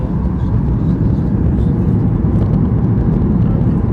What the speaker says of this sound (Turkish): Şu an Antalya'ya iniş yapıyoruz.